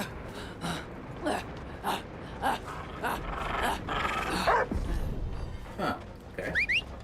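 A dog in the Dead by Daylight video game giving short barks, yips and growls in bursts, close by, with a voice talking over parts of it.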